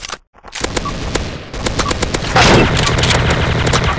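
Rapid bursts of TMP submachine gun fire in a Special Ops video game match, loud and close, with dense automatic rattles after a brief silent gap and heavier explosive noise toward the end.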